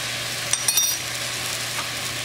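Apples drop into two tablespoons of melted butter in a saucepan over a medium-high burner, giving a soft steady sizzle with a few clinks of fruit and utensil against the pan near the start.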